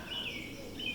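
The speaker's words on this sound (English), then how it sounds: "Birds chirping." Birds chirp outdoors in short high twittering calls, two brief bursts over a soft, quiet background.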